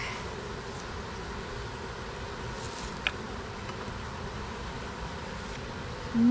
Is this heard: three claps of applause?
no